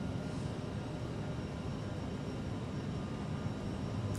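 Airliner jet engines roar steadily at takeoff thrust in a flight simulator, a dense, constant broadband rumble with no break across the whole stretch.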